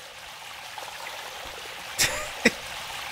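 Shower water runs steadily in a Gmod haunted-hotel horror map, a soft continuous trickle and stream broken by two brief sharper splashes or taps near the end.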